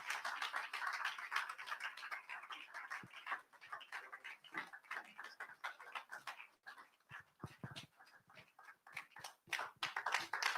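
A conference audience at a digital skills event claps to welcome a speaker: dense, continuous applause of many hands, steady and moderately loud, with no talking.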